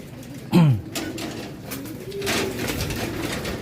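Pigeons in a racing loft at afternoon feeding time give a loud, close burst of cooing, followed by softer, lower coos and rustling as the birds settle.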